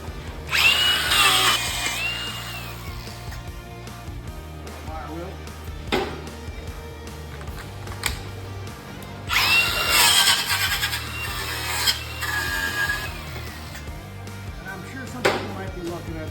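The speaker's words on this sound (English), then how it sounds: "I'm going to take my buffing wheel to it" A buffing wheel runs over a cracked metal deck in bursts, with a loud whining grind rising and falling twice and sharp clanks in between, close up.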